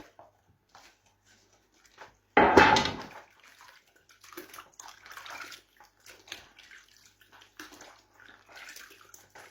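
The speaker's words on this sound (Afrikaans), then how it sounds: "daar gooi ons hulle in die water" Farm-grown food is dropped into water for washing, starting with one loud splash and then continuing as softer sloshing and rinsing sounds heard up close.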